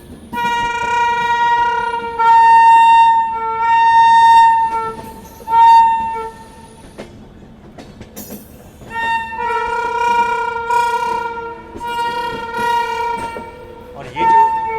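A Gatishakti fully air-conditioned economy train pulling out of Varanasi behind an old WAP-5 electric locomotive, its long tonal horn blasting repeatedly in sustained bursts over the rumble of the moving train.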